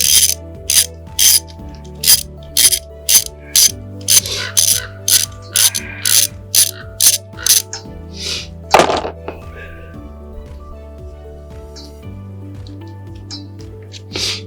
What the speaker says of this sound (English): Next, 10mm socket. Let's go ahead and pull that off.